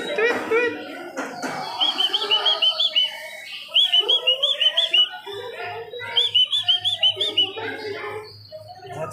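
Birds tweeting at a zoo park in Cebu City give repeated high whistled chirp trills in short bursts, fairly clear against a quiet background with faint outdoor ambience.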